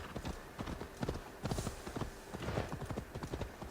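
Horse hooves from Assassin's Creed Valhalla beat in a quick, close rhythmic clip-clop of a galloping mount, loud and steady across the clip with a brief whinny-like lift.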